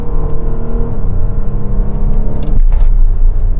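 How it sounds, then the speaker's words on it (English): An Audi Q7 diesel SUV launches hard from a standstill, its engine rumbling loud and close with a rising roar, then a brief shift break before the deep drone continues. "So let's launch it, see how quick it is from 0 to 60"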